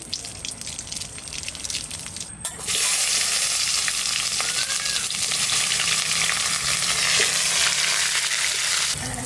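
Dried red chili, bay leaf and cumin hit hot oil for a rohu fish curry, bursting into a loud, steady sizzle after a quiet kitchen moment, then crackling evenly and close up without letup.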